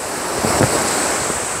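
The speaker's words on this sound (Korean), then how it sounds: "파도가 있어서 위험해" Ocean surf on the East Sea coast of Korea, a steady broadband roar of breaking waves mixed with wind buffeting the microphone, continuous and close with no voices.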